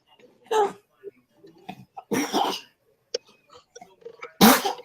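Several short, sharp bursts spaced across a few seconds, a sneeze among them, with the loudest one near the end, close and abrupt.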